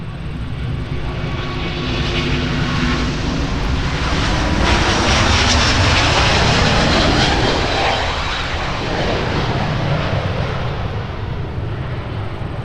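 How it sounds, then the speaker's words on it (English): A Delta heavy jet airliner roars down the runway on its takeoff roll toward Amsterdam, a loud continuous engine rumble that swells and shifts in pitch as it passes and then eases slightly as it climbs away. "Delta 160 Heavy now on the roll, wasting no time to get airborne for AMS."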